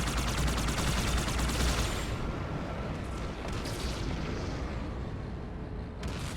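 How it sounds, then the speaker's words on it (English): Mortar fire and explosions in the Halo 2 video game form a dense, continuous battle roar with rumbling blasts and crackling gunfire, loud throughout and easing slightly partway through. "that mortar nearly hit us"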